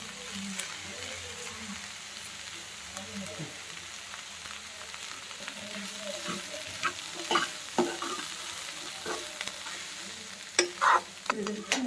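Peas are stirred and fried in a pan, giving a soft, steady sizzle broken by scraping, clattering strokes of a spoon that grow more frequent and louder toward the end, close by with no talk.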